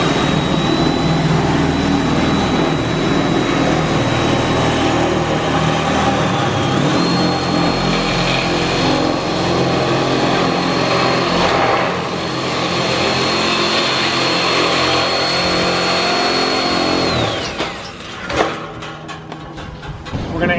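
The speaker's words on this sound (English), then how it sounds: "when it's time to cut the flats out, our go-to is usually the double cut shear" A double cut shear cuts the flat sections of sheet metal trim around a window, a loud, steady motor whine with a high buzzing edge that runs for most of the stretch before cutting off near the end.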